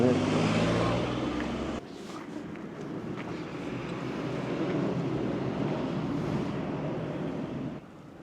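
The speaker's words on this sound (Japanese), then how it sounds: "これもう交通量が多いんですよ。" Heavy road traffic in Kumamoto, Japan, a steady roar of passing vehicles with a loud pass at the start, then a continuous, moderately close rush of traffic that swells and fades.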